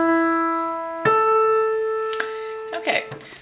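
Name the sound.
keyboard playing a fourth interval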